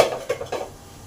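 A metal lid goes onto a pot of potato curry, clattering in a few quick, close clinks and scrapes before settling into quiet.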